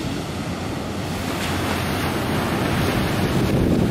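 Surf rolling onto a beach in Terengganu at sunrise, a continuous wash of breaking waves with wind buffeting the microphone, no voices.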